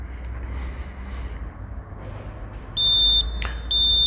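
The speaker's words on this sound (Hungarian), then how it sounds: "Bekapcsolás után 2 rövid csípszót hallunk" A Mascar M700 baler monitor powering on sends out a short, sharp, high electronic beep pattern over a low background hum, clear and close.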